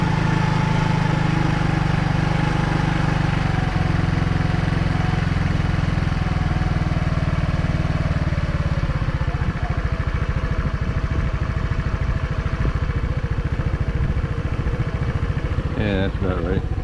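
A carbureted scooter engine restarted and idling, a loud, steady, close putter with a wavering pitch running continuously throughout.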